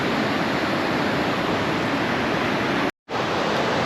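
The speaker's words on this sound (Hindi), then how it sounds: "आप काली नदी का फ्लो देखो किस रफ्तार से भर रही है" The fast-flowing Kali river at a bridge near Dharchula on the India–Nepal border roars as a dense, steady rush of water. The sound is loud and continuous, with one abrupt break near the end.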